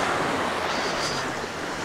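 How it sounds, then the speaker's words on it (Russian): Steady roar of sea surf breaking on a beach at Anapa, a continuous broad wash of waves mixed with wind buffeting the microphone, close and loud throughout. "как там волны у нас красиво прыгают"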